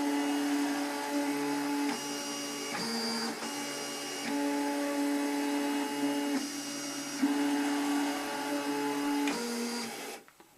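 A vinyl cutting machine runs through a design with a steady mechanical whine, its pitch shifting in short segments as the blade changes direction, close and continuous before stopping at the end, with no talking.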